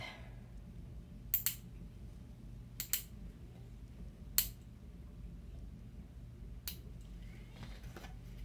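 Scissors trim a Jamberry nail wrap sample with a handful of sharp, separate snips spread over several seconds, each crisp and close against a quiet, faintly humming room.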